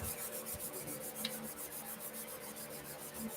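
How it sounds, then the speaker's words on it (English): Steady, rhythmic scratchy rubbing of sandpaper by hand against a wooden egg spinning on a lathe, cross sanding to remove marks, pulsing evenly with each rotation, close and continuous. "you're just basically cross sanding and getting rid of the marks"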